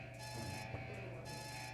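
A base alarm in the Soldier of Fortune video game rings in a steady, continuous electronic tone, faint and unbroken throughout with no speech.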